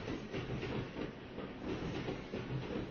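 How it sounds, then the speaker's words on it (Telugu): A train running into a tunnel gives a steady, loud rumble and rattle of wheels and carriages that holds evenly for the whole stretch, with no voices. "రైలు మళ్ళీ సొరంగంలోకి వెళ్ళింది."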